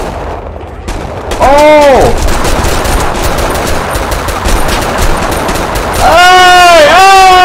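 Rapid automatic gunfire in the video game 25 to Life pours out loud and nearly continuous, a voice calling out briefly amid the shooting.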